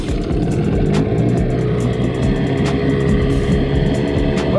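Outboard motor on a bass fishing boat running steadily at idle, a loud continuous engine drone with a rough low rumble and no pauses.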